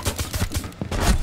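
Rapid gunfire in the shooter Rainbow Six Siege, several sharp shots in quick bursts, loud and close, with no talk over it.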